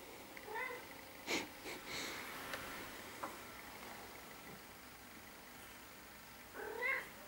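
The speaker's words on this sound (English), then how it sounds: "Meow." A cat meowing softly indoors: a faint meow near the start and a clearer, drawn-out meow near the end, separated by quiet shuffling and low room noise.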